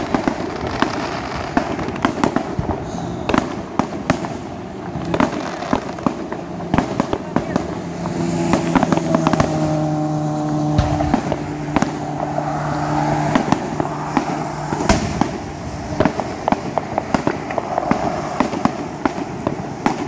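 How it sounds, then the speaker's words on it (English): Fourth of July fireworks burst over a golf course in dense, rapid crackling volleys with sharp booming reports, loud and continuous, while a car engine hums beneath and a few tonal whistles rise through the barrage. "old golf course would light off some fireworks. Like this one right here."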